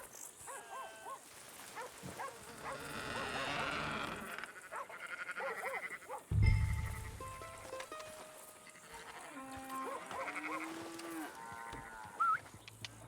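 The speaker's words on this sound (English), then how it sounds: "That's a dog in there." A dog growls low inside a barn in Red Dead Redemption 2, one brief deep rumble amid bleating farm animals and quiet ambient game sounds.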